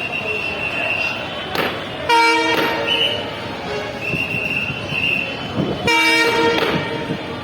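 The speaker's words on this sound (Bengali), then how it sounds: "ট্রেন আসতে চলছে ট্রেনটা যাওয়ার আমার রোডটা পার হবো" A train passes close by with a rolling rumble and two loud horn blasts, and voices talk nearby.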